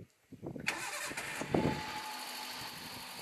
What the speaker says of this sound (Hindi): तो अभी मैं गाड़ी स्टार्ट करता हूँ